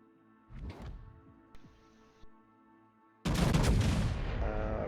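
Heavy gunfire from a battleship's guns in a naval combat video game, a few scattered booms and thuds giving way to a sudden loud, sustained barrage that keeps roaring to the end.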